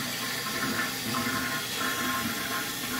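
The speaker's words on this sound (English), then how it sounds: "you turn on your water" A rebuilt toilet tank refills after the water supply is turned back on, a steady rushing hiss of water flowing into the cistern, constant and close with no talking.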